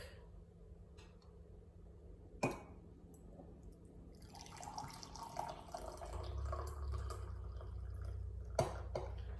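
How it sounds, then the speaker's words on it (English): Tea poured into a mug, a soft steady splashing trickle after a couple of sharp clinks, fairly close and quiet. "So I'm just going to pour this into my mug."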